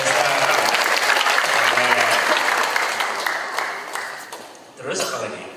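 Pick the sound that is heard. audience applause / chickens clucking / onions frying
audience applause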